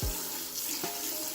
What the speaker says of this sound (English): Fill this bad boy up with some water.